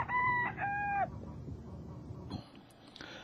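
A rooster crows twice in quick succession, loud and near, followed by quieter hen clucks against a low background hum.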